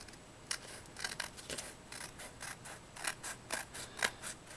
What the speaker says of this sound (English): I've got some edging here, and I'm just going to trim that up